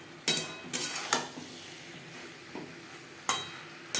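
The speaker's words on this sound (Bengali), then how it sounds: "3-4 মিনিট আলুর সাথে বেগুন নাড়াচাড়া করে নেব।" Potato and eggplant pieces are stirred in a frying pan, with several sharp scraping strokes of a spatula at irregular intervals over a low, constant sizzle, near and without talk.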